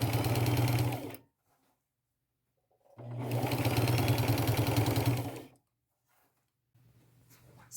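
Sewing machine stitching lace onto an old shirt: two loud, steady bursts of rapid mechanical whirring, the first about a second long and the second about two and a half seconds, separated by silence and followed by a faint lower hum.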